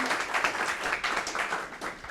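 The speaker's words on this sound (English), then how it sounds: "Shall we give her another round of applause" Audience applause at the close of a presentation at the Waters 2019 event: a steady, dense patter of many hands clapping, moderately close and continuous for a couple of seconds with no voices over it.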